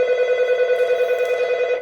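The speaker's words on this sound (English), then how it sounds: "Phone's ringing, so it's time to say goodbye." A telephone bell rings loudly and close in a fast, steady trill that runs almost two seconds before cutting off.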